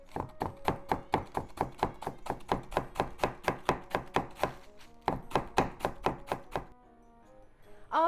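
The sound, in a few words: knife shredding cabbage on board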